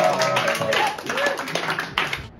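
Scattered clapping from a small crowd at a stand-up comedy show, fairly close, with chatter and murmuring voices mixed underneath, ending abruptly.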